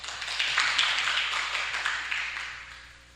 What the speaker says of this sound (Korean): 좀 박수 쳐주세요.